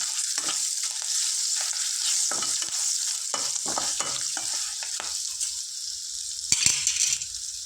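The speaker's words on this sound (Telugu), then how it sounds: "వేసుకొని కాస్త ఫ్రై చేసుకుందాం" Green chilies with a spoonful of turmeric fry in a pan, a steady bright sizzle broken by scattered scraping stir strokes and a few clinks from the utensil, with no talk.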